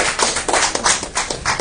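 A church audience during a talk on the honor of priesthood claps in a quick, uneven patter of close hand claps over a brief moment.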